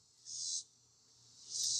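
Insects, likely crickets, chirping outdoors in two bursts of shrill, steady trilling with a quieter stretch between them, with a faint low hum underneath.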